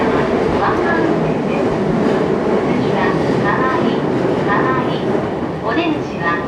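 A commuter train runs between Mitake and Kawai on the line to Okutama, Tokyo, its wheels rumbling and clattering steadily inside the car, with faint squeals and an announcement voice over the continuous loud noise.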